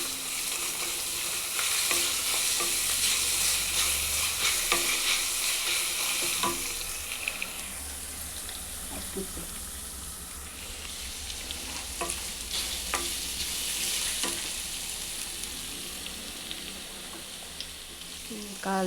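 Grated hill gooseberry and curry leaves frying and being stirred in a pan for gooseberry chitranna, a steady close sizzle with scraping stir strokes throughout, no talk.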